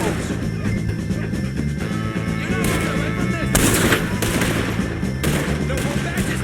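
Repeated gunfire during a shootout with O'Driscoll gang members in Red Dead Redemption 2, several sharp loud shots landing over a steady background of game music and ambience.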